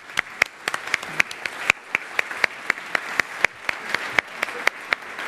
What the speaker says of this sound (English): So please join me in a round of applause for their voices being represented here today as well.